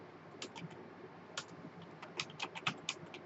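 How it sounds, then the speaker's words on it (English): Keys clatter on a Commodore 64 keyboard as a program is typed in, irregular quick taps in small clusters, close and fairly quiet over a faint background hiss. "let me go ahead and type the program in here"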